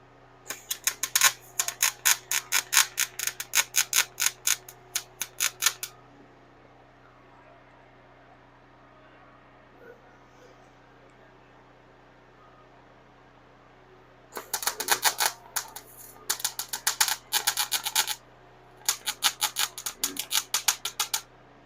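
Tack welds are laid on a custom stainless steel exhaust for a V8 Jeep YJ, with two bursts of rapid, sharp welding crackle separated by a long quiet stretch.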